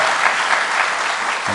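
An audience at a director's inauguration ceremony for a city evangelization movement breaks into steady, even applause, loud and continuous throughout with no pauses.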